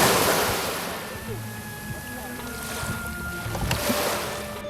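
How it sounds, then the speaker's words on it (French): Ocean waves breaking on a beach in Doha, a steady broadband wash of surf with rolling swells, heard alone without talk at moderate distance. "Le bruit des vagues."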